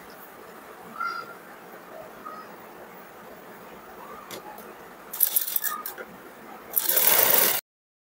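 A sewing machine stitches the front of a blouse in short bursts, whirring close by against quiet room noise, with a longer final run ending abruptly.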